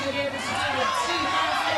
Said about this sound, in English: now you can hear the whole crowd cheering her on